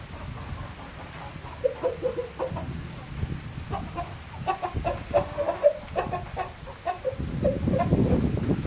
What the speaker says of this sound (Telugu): అండ్ ఇదిగోండి కోళ్ళన్నీ లోపలికి వచ్చేసినాయి.